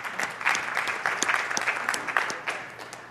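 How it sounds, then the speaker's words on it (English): Applause from a conference session audience of long-time VMware View users: a steady wash of many hands clapping at moderate level, fairly close, with scattered sharper claps. "Give yourself a round of applause for the folks that have been using it for more than 10 years."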